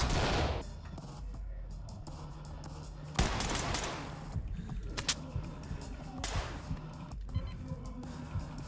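Gunfire aimed at the player in the tactical shooter game Ready Or Not, with sharp repeated shots and bursts over a dense, noisy game mix, several loud impacts spread across the span.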